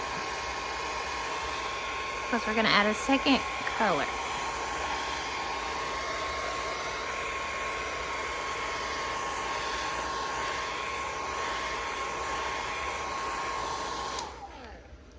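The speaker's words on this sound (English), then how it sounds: "I'm going to use my hair dryer, just dry it a little bit" A hair dryer blows with a steady, loud whoosh for several seconds before switching off, and a person talks briefly over it.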